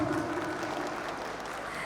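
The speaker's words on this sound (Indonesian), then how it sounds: "Boleh kita minta semangatnya dengan tepuk tangan Bapak Ibu." An audience at a regency head and deputy candidates' vision and mission event in Empat Lawang claps together in a steady, moderately loud burst of applause that stays even from start to finish.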